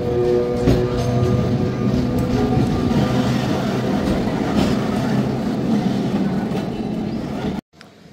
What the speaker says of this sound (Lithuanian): šitie tramvajai iš Soler į Port Soler važiuoja kas pusę valandos.